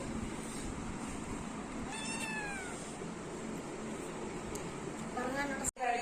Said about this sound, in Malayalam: അപ്പൊ ഇതാണ് കേട്ടോ നമ്മളുടെ പൂച്ച